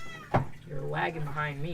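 A pet cat gives a short meow, with people chatting casually around it.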